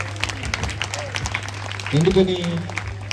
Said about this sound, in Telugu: మీరందరూ చిక్కవరం సంఘానికి గట్టిగా చప్పట్లతో అభినందించాలి.